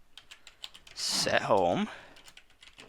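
Quick bursts of keystrokes on a computer keyboard entering a game command, light rapid clicks scattered around someone speaking over them.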